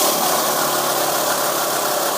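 A small minibike engine revs loudly and steadily up close, with a dense, buzzing mechanical drone and no pauses.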